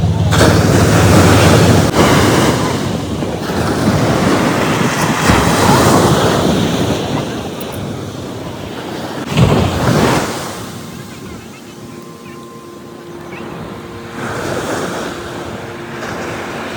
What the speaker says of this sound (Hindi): मतलब एक अलग ही वॉइस थी पूरे समुद्र की